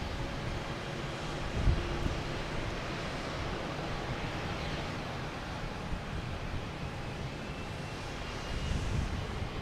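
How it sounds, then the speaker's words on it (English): A JetBlue Airbus A220 takes off from Boston Logan bound for Detroit, heard as a steady, distant, wind-like jet roar with a few low thumps and no voices. "We got a JetBlue taking off, an A220 heading to Detroit"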